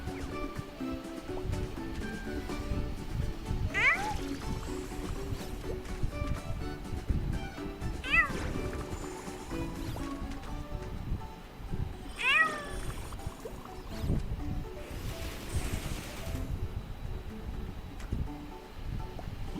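Cat-like chimera creatures from the video game Honkai: Star Rail meow several times at spaced intervals over soft, rustling ambient game background noise.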